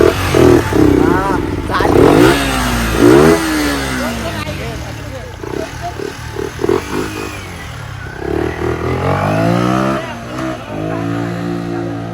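A broken-down vehicle's engine is coaxed into starting, a motorcycle-like motor coughing and revving unevenly up close while people talk over it.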